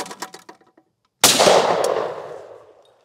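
A single loud shotgun blast fired at a clay target on an outdoor range, a sharp crack that rings out and decays over about a second, after a few quiet shuffling sounds.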